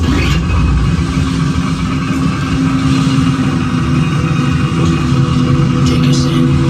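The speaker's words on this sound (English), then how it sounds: "Start the engine." In a PS3 video game, a vehicle engine starts and settles into a loud, steady, rumbling idle that fills the whole stretch without break.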